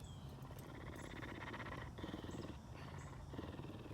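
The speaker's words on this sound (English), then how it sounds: "she's purring." An Amur leopard purring in a zoo enclosure, a steady low rumbling throb that runs through the whole stretch, close and fairly quiet, with no talk over it.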